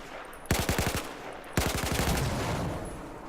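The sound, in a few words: gunshots in a video game, aiming with XiM Apex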